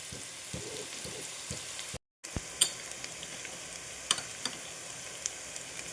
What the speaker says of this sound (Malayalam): ഉപ്പിടുക, മഞ്ഞളിടുക, പിന്നെ ഈ വഴുതനങ്ങയും കൂടി ഇട്ടിട്ട് വഴറ്റണം